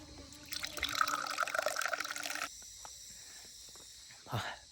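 Cool water runs and trickles from a tap or stream on a hot hillside at a Shiva temple, a steady bright rush lasting a couple of seconds before it stops, followed by quieter ambience and a brief nearby noise.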